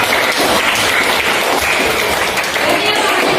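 A class claps during a lesson, with loud, steady clapping that runs throughout and blends with crowd noise and some voices.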